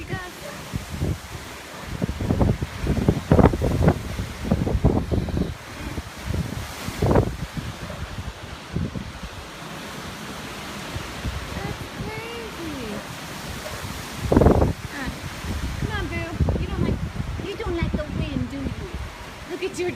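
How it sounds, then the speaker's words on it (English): Strong, sudden gusts of wind roar and buffet outdoors in a sustained rushing wash with louder surges, while a person speaks intermittently nearby. "Another crazy gust."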